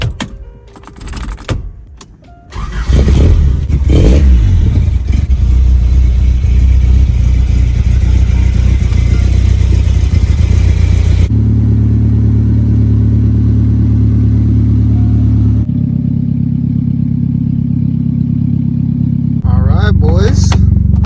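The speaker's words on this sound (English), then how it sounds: "I'm probably gonna warm up the Tacoma, move the 87, and I'm gonna take it for a little drive" A Toyota Tacoma engine warms up and then drives, a steady low hum whose pitch shifts in stages, with a person talking over it throughout.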